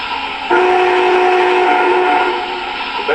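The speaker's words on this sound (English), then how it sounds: "Now that's just the standard whistle there." A model train whistle, played through the MTH DCS app, sounds once, a sustained close tonal toot lasting about two seconds, then fades.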